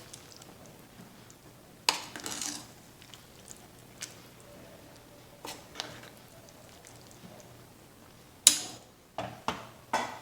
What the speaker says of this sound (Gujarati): ઢોકળી ઉમેર્યા બાદ એકવાર મિક્સ કરી લઈએ.